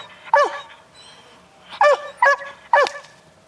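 Belgian Shepherd barking on command, one sharp bark followed after a pause by three quick barks, loud and close in a quiet setting.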